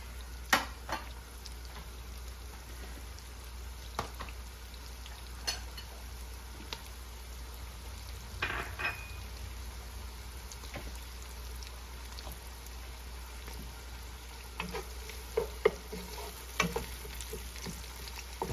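Chopped onions sauté slowly in oil in a pan for a Filipino dinuguan, a steady soft sizzle with scattered light crackles and occasional stirring clinks running throughout, moderately close and without speech.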